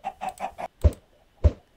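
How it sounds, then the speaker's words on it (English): Minecraft chickens cluck in a quick run of four short calls, then two louder, nearer clucks after a brief pause, with no talking over them. "Chicken!"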